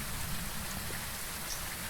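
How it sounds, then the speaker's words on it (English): Steady, dense rain from the Phasmophobia video game, a constant close hiss of drops on surfaces with no breaks and no voices. "It's the rain that's screwing me up."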